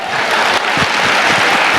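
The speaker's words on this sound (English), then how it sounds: "Everybody clap your hands." An audience clapping hands at a conference keynote, dense loud applause filling the room continuously from start to finish.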